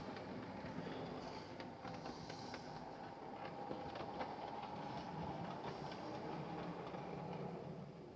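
A Bachmann class 46 model train running on layout track makes a quiet, steady rolling rumble with faint rhythmic wheel clicks for several seconds, with no speech.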